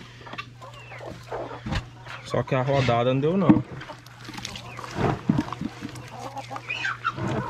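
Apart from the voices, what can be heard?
chickens clucking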